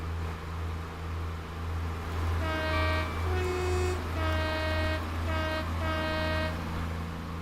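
Class 166 diesel train running in the game Train Sim World, a steady low engine drone with several long two-tone horn blasts sounding in bursts, near and loud.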